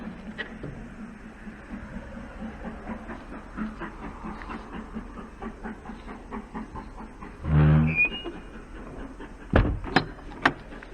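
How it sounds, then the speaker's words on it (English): Rhythmic chuffing and rumble of a steam train moving along a railway line in Norfolk, with a loud hiss burst and a few sharp whistles near the end. "it must be a steam train going along the railway line"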